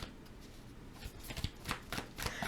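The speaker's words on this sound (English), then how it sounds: "Let's pull some clarifying cards for my Cancers." Tarot cards are shuffled by hand close up, making soft, quick riffling and papery flicks that build into brighter bursts near the end.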